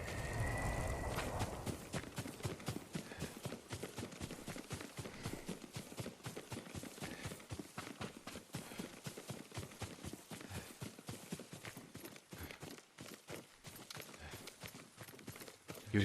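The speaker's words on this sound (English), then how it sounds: "Yuriko's horse." In the video game Ghost of Tsushima, a horse gallops with a fast, steady drumming of hoof beats. The hooves stay loud and continuous for about sixteen seconds.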